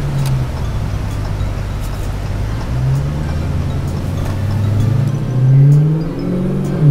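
An American car's engine revs hard under acceleration, a steady loud drone that climbs in pitch toward the end, with no talking.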